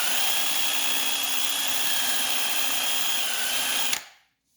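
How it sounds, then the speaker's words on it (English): An impact driver spins a brake pin against a green Scotch-Brite pad while working on a Honda sport quad's brake, a loud steady whirring drone for about four seconds that cuts off abruptly, leaving silence. "we got a green Scotch-Brite pad, and we got hooked up to our impact."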